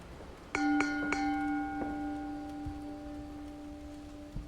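Bells in the game Ten Bells ring out in three quick successive strikes, then one softer strike, each leaving a long sustained metallic hum that rings on for seconds, clear and fairly close over a quiet background.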